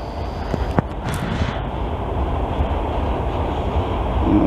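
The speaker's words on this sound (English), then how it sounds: "Boy, I hear a bad flat spot there on one of those wheels." Westbound CN freight train rolling past with a wheel flat spot, a steady rumbling roar of cars close by with a few sharp clanks near the start.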